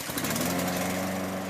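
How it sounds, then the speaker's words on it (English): A walk-behind lawn mower runs steadily over fallen leaves on garden ground in a wet season, its engine drone close and constant throughout with no talk. "Run the mower over the ground as though you were mowing the grass"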